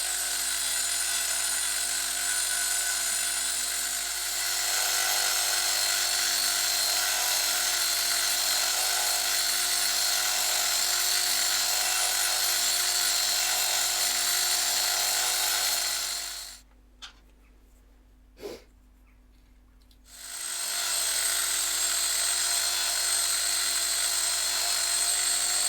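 A Proxxon rotary tool fitted with a rasp cutter whines loudly and steadily, stops for a few seconds with a single click in the pause, then spins back up to the same high-pitched buzz.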